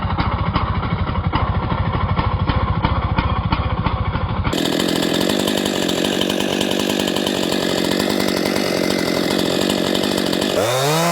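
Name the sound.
Stihl MS-261 chainsaw running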